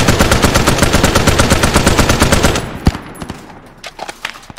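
An anti-aircraft gun in a video game fires a loud, rapid, sustained burst of evenly spaced shots lasting over two seconds, then stops abruptly, leaving a few scattered distant shots and faint echoes.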